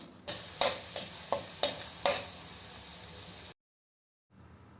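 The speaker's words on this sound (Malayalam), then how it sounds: "ഇഞ്ചിയുടെയും വെളുത്തുള്ളിയുടെയും പച്ചമണം മാറുന്നത് വരെ നമുക്കിതൊന്ന് ഇളക്കി കൊടുക്കാം" Garlic and ginger sizzling in hot oil for an octopus roast, with about five sharp spoon strokes as the pan is stirred over a steady hiss, then sudden silence and faint hiss returning.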